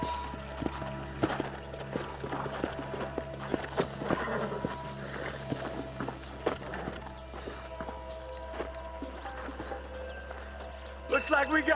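Horses in the Western video game Red Dead Redemption clip-clop in an irregular run of hoofbeats under a steady low hum and game sounds, with voices talking over them.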